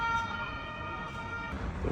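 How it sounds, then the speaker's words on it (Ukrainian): An ambulance siren sounds close by, holding a steady wailing tone for the whole stretch over a low rumble of traffic, with no one talking. "прямо біля мене когось та швидка забирала"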